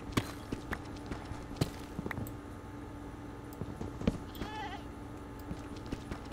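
A goat in the Minecraft video game gives a short, wavering bleat near the middle, set against a steady run of light clicking and tapping game sounds, with no talking.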